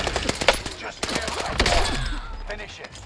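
Gunfire in Call of Duty Warzone, sharp rapid bursts of rifle shots cracking close by in irregular volleys, with some rattling automatic fire between them and speech mixed in.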